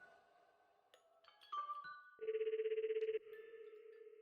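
A phone rings in the video game Schrödinger's Call, first a short run of dialing beeps, then a loud buzzing electronic ring tone with a rapid pulsing warble, followed by a steadier tone.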